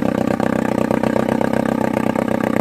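A Johnson TD20 5 hp outboard motor idles close by, a steady fast putter with rhythmic exhaust pulses and a mechanical clatter, its exhaust not fully underwater.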